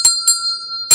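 A small bell is struck three times, each sharp ring leaving a sustained bright metallic tone that hangs between strikes, close and clear with no voices.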